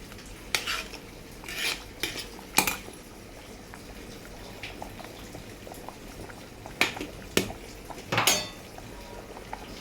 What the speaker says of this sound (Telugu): మంచిగా చుట్టూ మంచిగా ఇలా కలిపేసుకోవాలి.